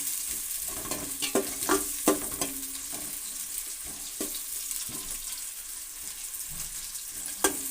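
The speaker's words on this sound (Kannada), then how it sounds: "ಈರುಳ್ಳಿ ಕೆಂಪಗೆ ಬಂದಮೇಲೆ ಬಿಟ್ಟಿಗಂಡಿರೋ ಮಸಾಲೆ ಹಾಕ್ತೀನಿ" Masala sizzles in a pan with browned onions for ghee rice, a steady close frying hiss broken by scraping and stirring clicks from a spoon, with no talking.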